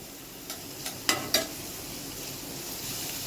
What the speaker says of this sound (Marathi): कांदा आपण फास्ट गॅसवर परतून घेतोय।